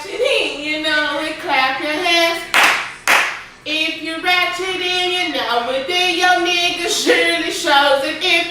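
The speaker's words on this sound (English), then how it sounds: "clap your hands" Hands clap rhythmically during a casual group chat show, mixed under continuous melodic singing or chanting voices that dominate throughout.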